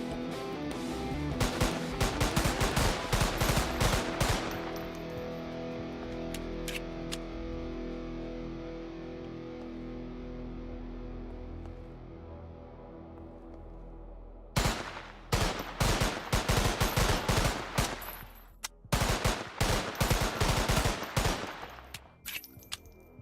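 Rapid bursts of pistol gunfire from the PS2 game Don 2, loud volleys of sharp shots in the opening seconds, a long lull with a steady background hum, then another dense run of close gunshots near the end.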